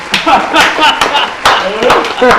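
An audience claps for a guest on a talk show, a loud, close burst of dense applause that runs throughout, with voices calling out over it.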